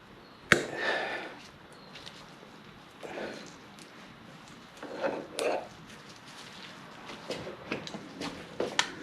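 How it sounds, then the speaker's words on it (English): Sharp snips and clanks of metal as an old metal band is cut off a CV boot on a Jeep JK axle, a few scattered hits and scrapes, close and fairly quiet. "I'm going to just cut this old band off"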